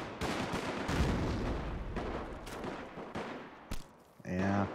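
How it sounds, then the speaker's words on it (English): Video game gunfire in a 1918 Great War battle from Company of Heroes: dense volleys of rifle and machine-gun shots crackle in overlapping bursts with heavier booms, then a short voice cuts in near the end. "they're not gonna destroy that building with gunfire"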